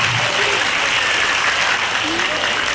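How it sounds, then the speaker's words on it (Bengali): Dense, loud applause from an audience at a carnival-style stage event, continuous broadband clapping filling the whole stretch with a faint voice underneath. "একটু সবাই জোরে হাততালি দেবে"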